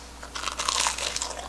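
Someone bites into a freshly fried, sugar-coated Korean twisted donut (kkwabaegi) while it is still hot, making one close, crisp crunch.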